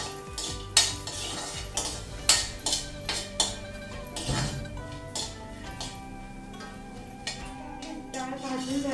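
Half a cup of chana dal dry-roasts in a pan while a spoon stirs it, giving sharp metallic clanks and scraping against the pan, loud and irregular at first, then softer rustling as the lentils are turned.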